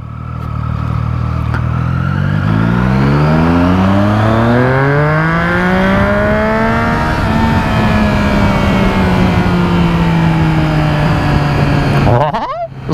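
Strike Apple 675 motorcycle engine, loud and close, revving up in a rising sweep over several seconds, then holding a steady high drone before cutting off abruptly at the end.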